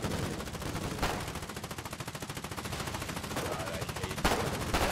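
Sustained machine gun fire in the war game Foxhole rattles in rapid bursts, with a few louder cracks standing out from the continuous chatter.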